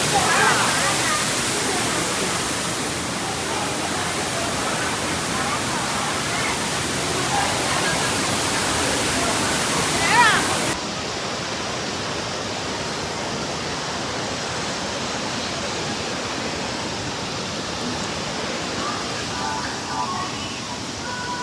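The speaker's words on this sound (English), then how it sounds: "Now we reach to the cave, which is covered by the water curtain outside." Waterfall pouring as a water curtain over the mouth of a mountain cave, a loud, steady broadband roar that fills the whole stretch, dropping slightly in level partway through as the listening position shifts.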